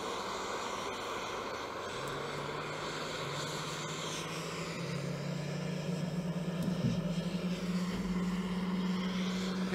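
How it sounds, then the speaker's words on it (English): Fighter jet engines of the Bayi Aerobatics team running up at the Zhuhai airshow in China, a steady broad roar with a rising tonal whine that swells louder over the last seconds, heard alone without talk. "Now the engine have started and we can hear the sound"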